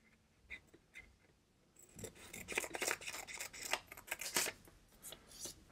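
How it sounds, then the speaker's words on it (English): Scissors snip through paper for a bullet journal weekly plan: a few faint cuts first, then a louder run of crisp, rasping snips close by. "let's go ahead and just snip this off real quick"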